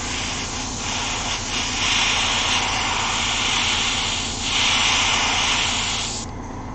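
Airbrush spraying paint onto a Gunpla model, a steady close hiss of air and paint mist that swells and eases in two long bursts before cutting off near the end.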